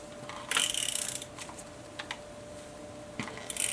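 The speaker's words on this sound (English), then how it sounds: "I'm just going to run my tape runner along this" Tape runner dispensing adhesive along paper in a scrapbooking project: a few dry ratcheting rasps, close and fairly quiet, one longer pull followed by shorter scrapes and clicks.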